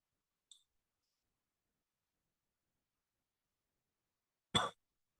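A single faint, sharp mouse click lands on a login button in near silence. Much later, one louder short burst like a throat clearing follows.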